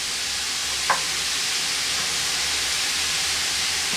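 Mushrooms cooking in a skillet on medium-high heat, giving off moisture with a steady broad hiss and sizzle throughout, one brief clink, no voices.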